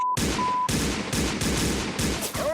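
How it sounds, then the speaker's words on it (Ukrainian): A rapid series of loud, close gunshots from a Western cowboy video game bursts out in a steady rhythm, about six blasts in quick succession with brief pings between them. "Вау, відміни постріл, Арнольде."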